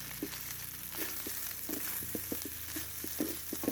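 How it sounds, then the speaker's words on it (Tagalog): Leftover cooked rice frying with garlic in a hot pan: a steady close sizzle broken by repeated spatula scrapes and taps as the rice is tossed. "At kapag luto na yung garlic is pwede nang ilagay yung kaning lamig"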